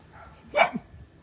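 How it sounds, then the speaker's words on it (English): A single short bark from a dog, moderately close, standing alone against a quiet background. "I know the dogs are barking."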